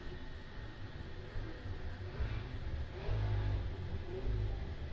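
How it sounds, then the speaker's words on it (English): A vehicle engine revs outside a room, a faint, distant low rumble that swells and surges in several waves against steady background hiss. "Revving up whatever it is outside?"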